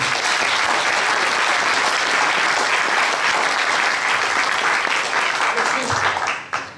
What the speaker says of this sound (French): Applaudissons Annick.